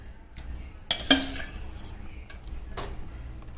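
Cooked mutton stirred in a pan for a mutton fry, with a sharp metallic clink and scrape of a utensil against the pan, then quieter scraping and stirring noises.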